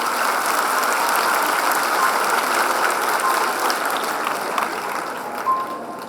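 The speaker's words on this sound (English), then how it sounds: "Give them a wondrous applause for the amazing performance" Steady applause from a school annual day audience after a folk dance performance, a broad continuous clapping that holds evenly and tapers slightly near the end.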